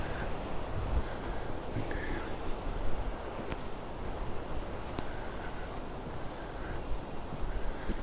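Wind blows outdoors on the coast at Palmanova, Mallorca, as a steady broadband rush and buffeting on the microphone, fairly loud and constant, with a few faint knocks and a voice in the background.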